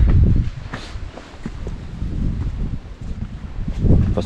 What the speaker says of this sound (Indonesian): Wah, anginnya kenceng banget.